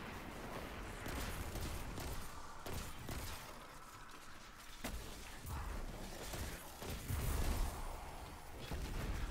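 Turret gunfire in Destiny 2 Forsaken, dense bursts of rapid shots and shattering impacts with whooshes, a continuous loud barrage of overlapping fire.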